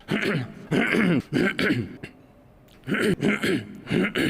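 A man coughs repeatedly in short, harsh bursts, several in quick succession, then a pause and another cluster of close coughs, during a speech by a politician.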